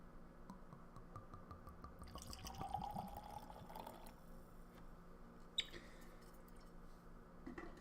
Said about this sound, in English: Also gonna pour myself a little something to drink.